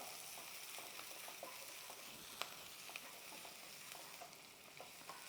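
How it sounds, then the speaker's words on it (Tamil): Chopped small onions sautéing in a pan over a raised flame, a faint, steady sizzle with scattered light clicks of stirring and no talking throughout. "நல்லா சாட்டே பண்ணலாம்."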